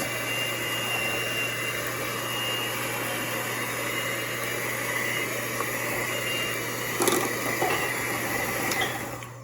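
An electric mixer whirs steadily as it blends ripe bananas for banana walnut bread. The drone is constant and fairly loud, with a few brief clatters near the end.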